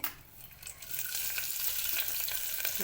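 Mustard seeds dropped into hot ghee for North Karnataka vegetable upma: a close, steady crackling sizzle that swells after a brief quieter start and continues evenly to the end.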